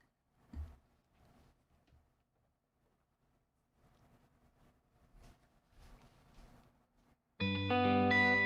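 Sparse, soft guitar notes smeared by echoing delay and reverb, then a loud, sustained chord swells in near the end.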